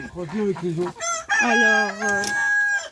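Excited Ayam Cemani chicken calls, a run of clucks rising into a strained, squawking cry, close and fairly loud with no talking.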